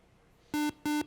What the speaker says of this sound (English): that longer buzzer meant time was up